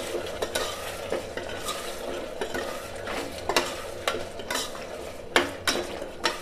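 Pea and potato curry being stirred in a pressure cooker, with a steady low sizzle and repeated scraping clicks of a spoon against the metal pot, close and clear, no talking.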